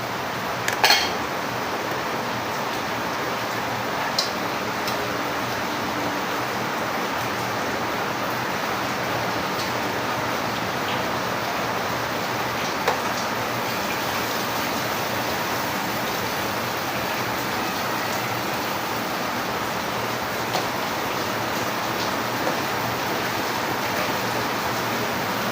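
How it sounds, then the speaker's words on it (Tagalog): Heavy rain pours down outside during a sudden downpour, a loud steady broadband hiss that goes on without a break, with a few faint clinks rising out of it. "Lakas ng ulan sa labas guys. Bigla nang umulan."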